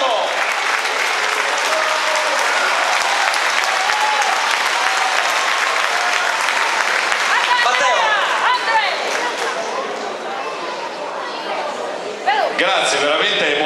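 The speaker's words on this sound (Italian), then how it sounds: "fatevelo da soli l'applauso perché veramente vi ripaga di..." A large crowd at a rally in Nuoro applauds loudly and continuously, a dense wash of clapping with shouts and voices mixed in, swelling and holding for many seconds.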